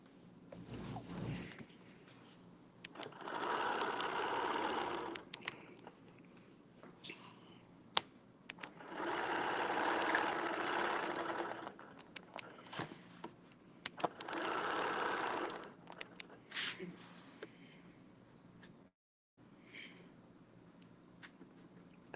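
A sewing machine stitching a design, its motor buzzing in bursts of a few seconds each, separated by pauses where the machine stops, moderately close and faint, with no speech.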